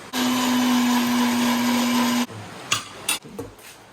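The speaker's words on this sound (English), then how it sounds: "I put it for the blender." A blender blending pumpkin ginger soup whirs loudly and steadily for about two seconds, then cuts off, followed by a few clunks and rattles of the jug.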